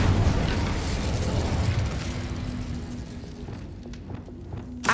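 A burst of fire from the Incendio spell in the video game Hogwarts Legacy, a dense crackling whoosh that fades over a few seconds, followed by scattered small clicks and a short pop at the end.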